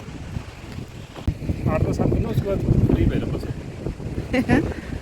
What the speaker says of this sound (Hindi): यहाँ देखो हवा चल रही है ना, मस्त मस्त।